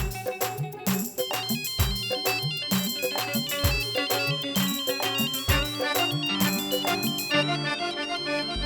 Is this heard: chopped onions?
no